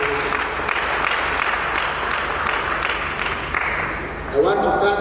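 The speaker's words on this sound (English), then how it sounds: "Please clap for us." Steady applause from an audience at a conference gathering in Kololo, dense and even throughout, with some tonal noise entering near the end.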